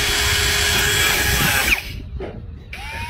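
A power drill drives a screw with a steady, loud whine that runs for nearly two seconds, then cuts out abruptly, leaving quieter handling noise.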